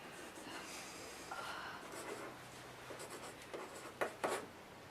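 Pencil writing a word on paper during a spelling lesson: several seconds of scratchy strokes that build toward a few louder taps and scrapes near the end, with no talking.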